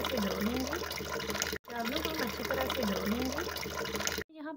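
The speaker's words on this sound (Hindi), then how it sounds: "चावलों को हम अच्छी तरह से धो" Soaked rice is washed in water in a kitchen while making biryani, producing a steady close splashing and sloshing with two brief breaks, and no speech in the clip.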